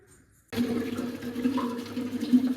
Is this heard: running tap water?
yes